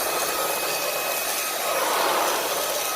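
A Puppyoo A9 cordless vacuum cleaner running on carpet gives off a steady, loud, airy whirring hiss for a few seconds, with a slight swell midway. No talk.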